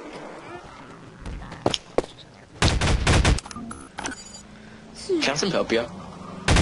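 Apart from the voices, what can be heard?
gunfire in video game Garry's Mod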